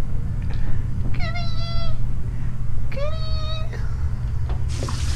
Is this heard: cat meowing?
yes